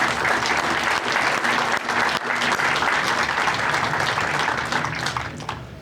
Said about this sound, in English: They deserve another round of our applause.